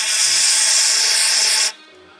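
A loud, close spray hisses steadily onto a Dana 45 axle pulled for bearing work, then cuts off abruptly, leaving near silence.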